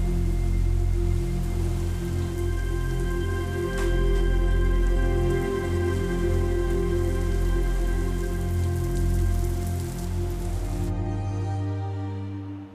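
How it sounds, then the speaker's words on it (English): A sudden heavy downpour of rain in Shanghai, a steady loud wash of falling water and drips under a constant low mechanical hum with tonal lines, holding evenly before cutting off near the end. "a sudden downpour hits Shanghai"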